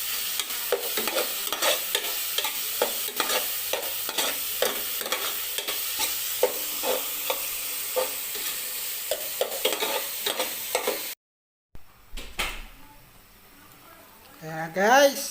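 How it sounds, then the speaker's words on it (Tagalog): Tomatoes, onions and garlic sauté in a pan, with steady sizzling and frequent scraping stirs. The sizzle cuts out briefly near the end before louder clatter returns. "Igisa muna natin yung kamatis guys, sibuyas, bawang."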